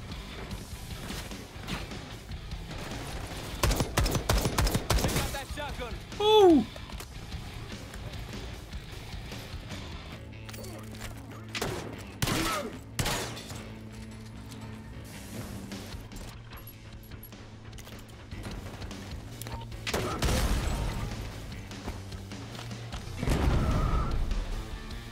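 Shotgun blasts in the Black Ops 6 campaign: several loud, sharp booms scattered among game noise and movement, some in quick pairs and others spaced seconds apart, with no talking over them.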